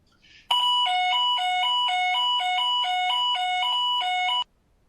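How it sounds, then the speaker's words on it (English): Fire alarm test at a maritime skills showcase during a London shipping event: a loud electronic two-tone chime repeats in steady alternating pulses for about four seconds, then cuts off abruptly, with no talking over it. "That was indeed the fire alarm test."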